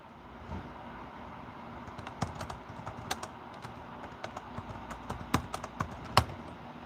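Computer keyboard typing during a live stream, a steady run of quick close key clicks building to sharper, louder strikes near the end, with no one talking.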